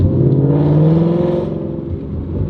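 Mazda Miata engine revving hard under 3,000 RPM while driving with the window slightly down, a loud, close, rising growl with a rough rumbling texture that eases slightly before picking up again.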